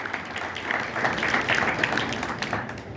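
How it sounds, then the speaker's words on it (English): Warm audience applause at an Ohio rockabilly vintage fashion show, a full burst of clapping hands that swells and holds for a few seconds before easing slightly. "So let's give Angie a round of applause."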